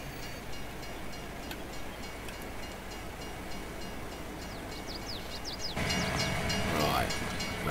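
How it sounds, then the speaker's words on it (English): A rented train in Farming Simulator 22 rolls along with a steady rumble and clatter that grows louder near the end, joined by faint chirping. "let's return the renter train"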